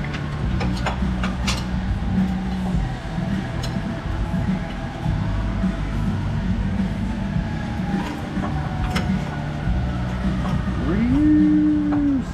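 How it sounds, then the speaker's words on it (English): Distant fire emergency sirens wail faintly over a constant low rumble, and a louder, drawn-out horn-like tone rises near the end. "Sirens."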